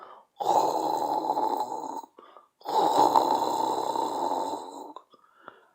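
A person imitates snoring with two long, rasping inhaled snores separated by a pause, close and fairly loud.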